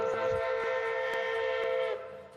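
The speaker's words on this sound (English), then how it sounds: "Just love that whistle so much." Steam locomotive whistle of an EBT 15 engine in the railroad simulation game Railroader, a loud, steady sustained blast held for about two seconds before cutting off, heard alone with a faint rumble beneath.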